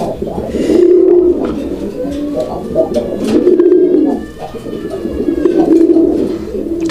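Pigeons coo repeatedly in steady, close, loud rounds, with occasional background voices and bird chirps mixed in.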